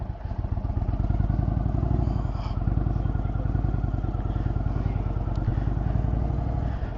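An Indian Chieftain motorcycle with a Thunderstroke 116 engine and aftermarket exhausts fires up and settles into a deep, steady, lumpy idle, its rapid regular pulses close and loud.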